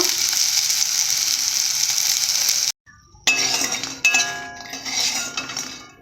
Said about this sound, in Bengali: বড়িগুলো এইভাবে ভেজে নিয়েছি